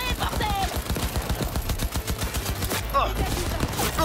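Rapid automatic gunfire from a firefight in the Cyberpunk 2077 Phantom Liberty video game, a loud, dense fusillade of shots running throughout with a brief burst of sharper impacts near the end.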